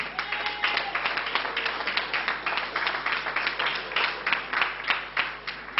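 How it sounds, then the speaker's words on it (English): A crowd applauding President Obama, steady dense clapping that continues throughout at moderate loudness. "Let's have a round of applause for President Obama, please."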